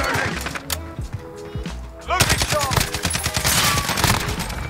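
FN SCAR 17 rifle fire in Modern Warfare: rapid bursts of loud gunshots sounding close, the firing growing denser after a short lull, with someone talking over parts of it.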